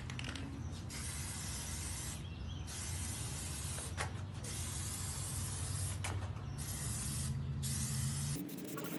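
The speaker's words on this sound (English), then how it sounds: "Make sure you have an even spraying pattern." Plasti Dip being sprayed from an aerosol can onto a car grille, a continuous loud hiss in long bursts broken by short pauses, close to the can.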